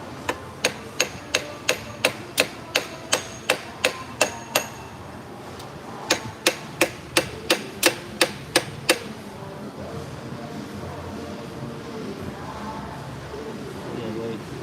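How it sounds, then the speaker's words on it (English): A small hammer taps on the A/C compressor clutch of a 2009 Subaru Outback 3.0L H6 in two runs of sharp, evenly spaced metallic strikes, close up, followed by quieter shop background. "Use the cutest little hammer ever"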